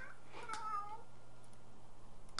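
Cat in The Sims 3 gives a single drawn-out meow, fairly faint and alone over quiet game background, followed by a soft tonal hum.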